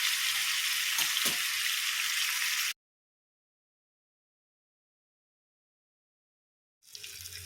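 Small mackerel (kanni ayala) fry in oil in a pan with a steady, close hiss of sizzling that cuts to silence after a few seconds and returns faintly at the very end.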